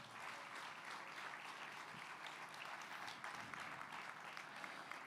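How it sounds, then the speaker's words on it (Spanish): Steady applause of praise fills a church service, a dense even wash of many hands clapping for several seconds with no break and no voices standing out. "Ese aplauso es de alabanza para el Señor."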